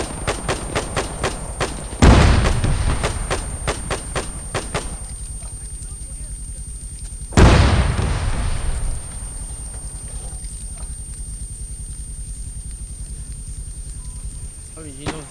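Arma 3 artillery firing high-explosive shells, with two heavy booms that roll off over a couple of seconds, among rapid distant gunshots and talk over a radio.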